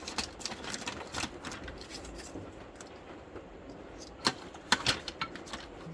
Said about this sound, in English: Alright, I'm going to cut this out. I think I'm going to do it with my knife.